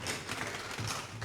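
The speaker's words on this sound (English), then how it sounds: "So give a round of applause to them." Brief applause for school quiz contestants in a brain competition, a light scatter of clapping and taps, fairly faint and uneven, with no one speaking.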